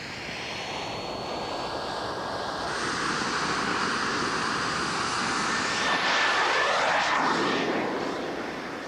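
Homemade jet engine burning camping stove fuel, a loud continuous roaring rush with a steady high whine, swelling slightly in intensity over about nine seconds, with no talk.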